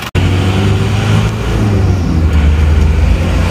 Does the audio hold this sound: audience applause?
no